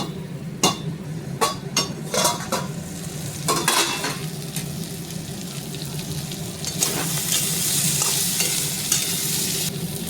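Chopped ivy gourd and potato frying in a pan with green chilli, a continuous close sizzle broken by sharp clicks of a spatula stirring against the metal.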